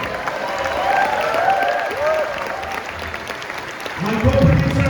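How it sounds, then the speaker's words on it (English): An audience at a screening of a Tibetan film applauds the actors, a sustained wash of clapping from a crowd with voices talking and calling out over it, swelling louder near the end. "Everybody give them a round of applause"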